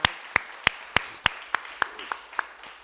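Slow, evenly spaced hand claps, about ten sharp strikes in three seconds, from a church congregation at a Sunday service thanking the kitchen staff, fairly near and growing slightly softer.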